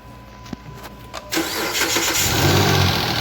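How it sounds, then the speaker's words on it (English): A 2009 Dodge with its serpentine belt removed cranks after a couple of faint clicks and catches, the engine roaring up and settling into a loud, steady run close by. "now we're gonna try to crank the car to see what we get"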